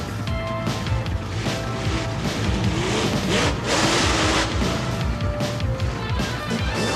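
Monster truck crushing cars at a live motorsport show, its engine roaring loudly and continuously with crunching impacts and crowd noise throughout.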